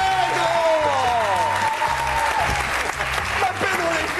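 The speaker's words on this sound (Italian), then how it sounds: "È arrivato il nostro ospite, un bel applauso!" Studio audience applauding a guest's arrival on an Italian TV football comedy show, loud dense clapping mixed with cheering and excited voices, with music playing underneath throughout.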